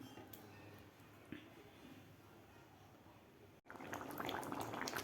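Methi leaf curry bubbling in a pot over medium heat, quiet boiling and gurgling that grows louder and busier after a brief cut near the end.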